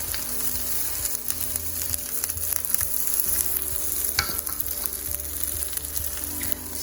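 Ukrainian oladji pancakes sizzle steadily in plenty of hot oil, a dense, continuous crackle with occasional sharper pops, close and fairly loud with no voices.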